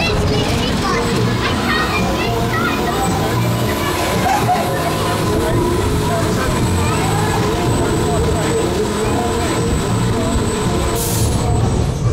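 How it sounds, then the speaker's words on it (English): A brand new spinning roller coaster at Clarence Pier rattles and rumbles along its track with squealing wheels and steady mechanical roar, mixed with crowd chatter and children's voices throughout. "Obviously it is a spinning coaster, so we'll be spinning round"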